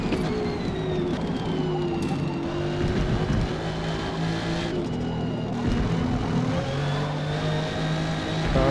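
A Chevrolet Camaro race car engine revving during a race, a loud continuous engine drone with rising and falling pitch as it accelerates and shifts, heard from inside the car.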